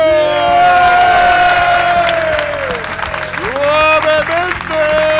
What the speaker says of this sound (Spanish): Un fuerte aplauso para David Broncano!